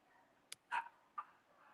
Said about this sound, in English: My dogs are going crazy outside.